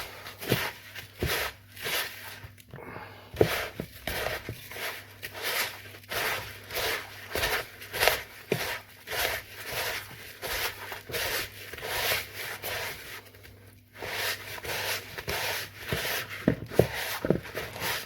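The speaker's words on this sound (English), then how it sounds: "we're literally just going to mush that all together" Raspberry and white chocolate cookie dough is mushed together by hand, making soft, irregular rubbing and squishing sounds in uneven bursts, fairly quiet and close, with a brief lull partway through and no talking.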